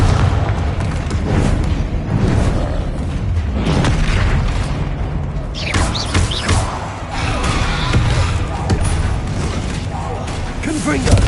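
Confringo fire spells blast repeatedly during combat with a troll in Hogwarts Legacy, loud booming explosions rolling one after another over a dense, continuous game soundscape.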